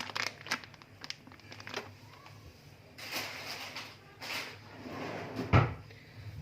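Plastic packaging bag holding a pack of five-colour drying cloths crinkles and rustles in several bursts at close range, with soft handling knocks between them and no talk.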